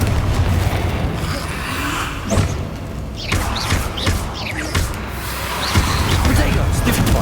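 Confringo blasting-curse explosions in the Hogwarts Legacy video game, several dull booms and thuds spaced irregularly over a dense, loud game soundtrack, with a voice speaking in between.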